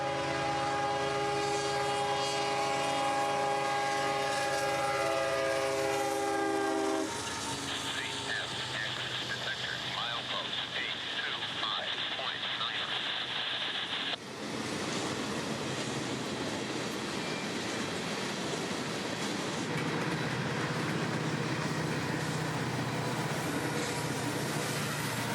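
A freight train of coal cars and autoracks on the S Line in Central Florida passes nearby. Its horn sounds at first, then a steady, loud rolling rumble of wagons continues throughout.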